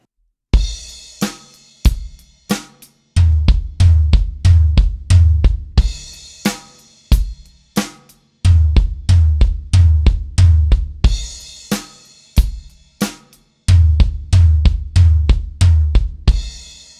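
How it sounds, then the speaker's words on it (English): Steady eighth notes alternate between a floor tom and a kick drum, loud and close, in repeated bursts of even strokes separated by brief pauses, with cymbal crashes marking the start of each phrase. "figure that we end up with is just eighth notes being played between the floor tom and the kick drum"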